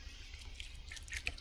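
Water soaking into freshly dug, muddy soil around a newly planted tomato, giving soft close drips and wet squishing at low level, with a couple of brighter splashy drops near the end.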